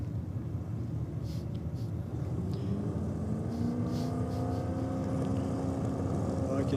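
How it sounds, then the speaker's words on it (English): Turbocharged drag racing car in the D-Gas class at a drag strip, its engine holding a steady loud rumbling drone with a rising whine as boost builds, a continuous roar throughout with voices faintly underneath. "I can hear Kid Hunter building up the boost. This car's got turbos on it"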